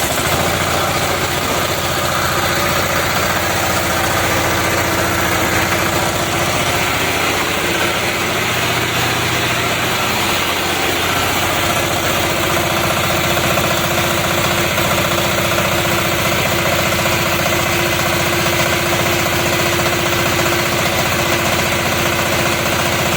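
An 18 horsepower diesel engine runs steadily and loudly at idle, a continuous close rumbling drone with no speech over it.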